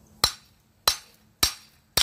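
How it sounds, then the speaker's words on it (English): A drop hammer striking a strontium azide sample during a shock test, four sharp, loud impacts spaced about half a second apart, each ringing briefly before fading, with nothing else heard between them. "I'm just going to let the weight of the hammer just fall on this"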